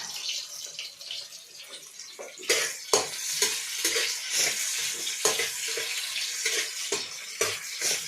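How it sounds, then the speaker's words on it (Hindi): Onions frying in a pan and stirred with a spoon, an ongoing sizzle broken by repeated scraping, clattering strokes at an uneven rhythm, close and fairly loud, no talking. "अब प्याज ला डाल दो। वही अब चम्मच चलाओ लो।"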